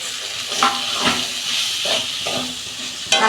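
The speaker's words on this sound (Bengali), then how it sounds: "আলু দিচ্ছি, বরবটিটাও দিয়ে দিচ্ছি।" Potatoes and long beans go into a pan of hot fried spice paste for a mixed vegetable dish, giving a loud, steady sizzling hiss with a few brief clinks and scrapes over it.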